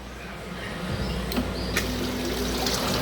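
A small water pump inside an air cooler, newly connected as a second pump, runs and throws water upward, giving a steady trickling splash that continues for the whole stretch at moderate level with no talk.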